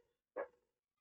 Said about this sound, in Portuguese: cachorro tá latindo muito